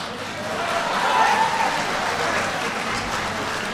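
Audience applause rises at a community meeting of residents objecting to a planned migrant shelter in Chicago, a steady wash of clapping that holds at moderate loudness without any clear speech over it.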